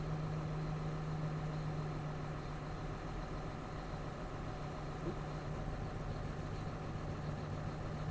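A steady, rough John Deere 6210R tractor engine idling at close range with its fourth cylinder disabled, its low throbbing running unbroken and slightly uneven throughout.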